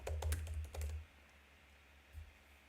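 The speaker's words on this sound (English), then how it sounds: "Sorry, I'm just typing it in." Rapid key clicks on a computer keyboard in a short burst up close, followed by a pause and one more faint tap, with no talking.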